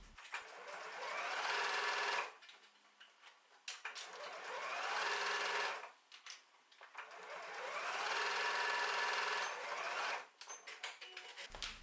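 A sewing machine stitching a tote bag opening shut with a 1/8 inch seam, running in three steady whirring bursts separated by short pauses with faint handling sounds.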